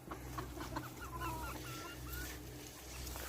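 Bantam Barbu d'Uccle hens cluck softly and fairly close, with short repeated calls over a low steady background hum.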